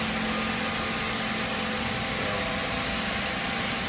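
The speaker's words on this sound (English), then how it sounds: "So this shaft is spinning, and we're about to spin it up to" A shaft on a thrust bearing spins up under an electric motor, giving a loud, steady, broadband whirring hum with a faint tonal whine, unbroken throughout and heard alone.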